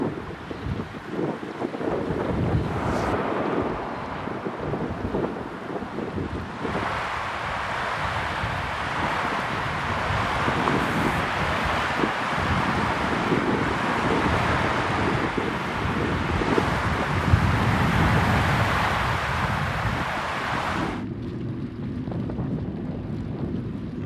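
Heavy headwind buffeting a microphone while cycling the Pacific coast toward Bodega Bay, a continuous loud roar with gusty swells and rumbling low end that briefly drops away near the end.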